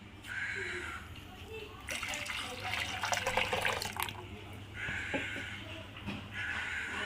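Water pours into a pot holding mint chutney while cold panipuri water is made, a splashing rush in the middle of the clip with steady kitchen background and a voice speaking before and after.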